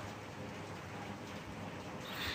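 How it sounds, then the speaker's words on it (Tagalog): Steady rain falls in a broad, even hiss with no breaks, moderately loud, recorded outdoors near a tree, with a faint brightening of the patter toward the end. "Ah, it's raining na."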